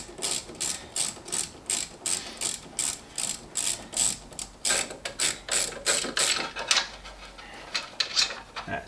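A ratchet undoing lightly fitted bolts under the bonnet of a Toyota GT86 gives quick, repeated clicking strokes in steady bursts, close and clear, with no talk.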